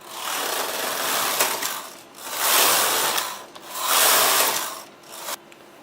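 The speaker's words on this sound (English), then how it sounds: "I am going to knit 12 rows of 1x1 ribbing" Knitting machine carriages running 12 rows of 1x1 ribbing on burgundy mohair, a rasping mechanical slide sweeping back and forth in three long passes, close and steady with short pauses between.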